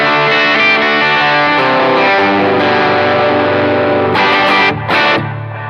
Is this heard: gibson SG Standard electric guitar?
yes